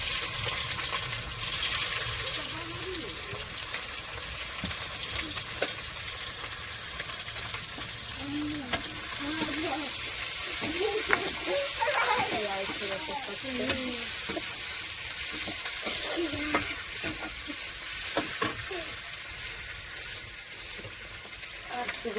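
Onion hits hot oil already tempered with cumin seeds, a loud continuous sizzle with crackles and spatter, broken by occasional clinks of a spoon against the pan.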